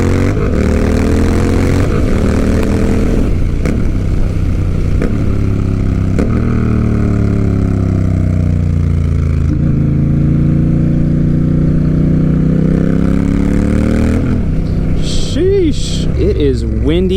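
A Honda Rebel 1100 motorcycle fitted with a cheap aftermarket exhaust cruises on a highway, its steady engine drone shifting pitch through gear changes, loud and close over heavy wind buffeting.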